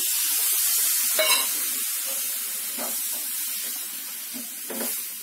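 Tamarind juice hits a hot pan of frying horse gram junaka, giving a steady close sizzle with a few brief louder bursts of spattering and hiss, no voices.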